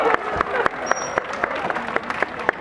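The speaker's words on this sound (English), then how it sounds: "Let's give them a round of applause" A small audience gives a round of applause, with scattered individual claps standing out sharply in an irregular rhythm over a soft background.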